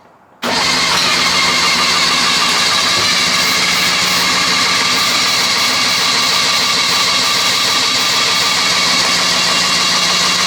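An engine on a Daihatsu mini truck, primed through the carburetor, kicks in abruptly and runs loud and rough for about ten seconds, a dense continuous drone close to the microphone.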